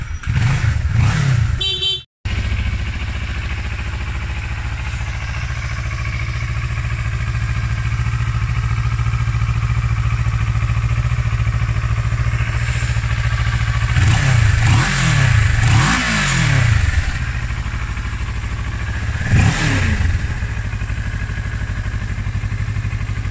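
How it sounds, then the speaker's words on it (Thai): A 2013 Kawasaki Ninja 650 ABS motorcycle starts with a short burst, then idles steadily up close, with several sharp throttle revs rising and falling around the middle and one more blip near the end. "เดี๋ยวฟังเสียงเครื่องยนต์กันนิดนึงนะผมขอเนี่ยสตาร์ทเสียงเครื่องยนต์นะครับ"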